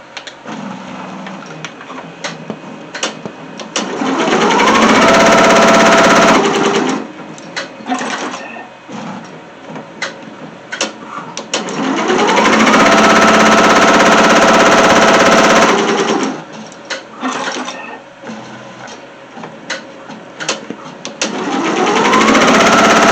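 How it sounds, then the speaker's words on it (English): Embroidery-style sewing machine stitching a placement line on a teddy bear, loud rapid mechanical clatter in three long bursts, separated by quieter ticking and whirring as the machine repositions. "Now we're going to stitch. Let's do our placement stitch first."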